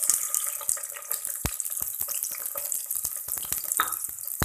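Water from boiled potatoes pours and splashes steadily through a strainer in a home kitchen, a continuous hissing rush with a few small clatters, with no talking.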